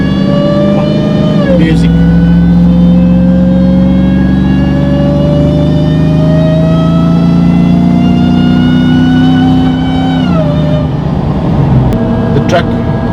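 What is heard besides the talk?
Hellcat-powered RAM 1500 engine supercharger whine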